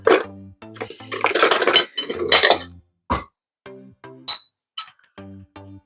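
A spoon clinks against dishes in a home kitchen during fried rice cooking, a run of bright, close metallic and ceramic clinks and taps, some quick clusters and then spaced single knocks.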